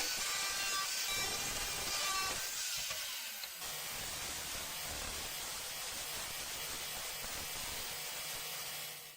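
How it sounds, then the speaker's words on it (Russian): An angle grinder cutting a spacer gives off a loud, continuous abrasive hiss that drops briefly and then resumes steadily through to the end. "тем я и режу, то есть болгаркой"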